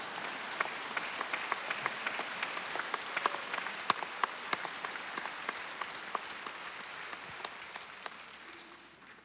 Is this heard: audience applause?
yes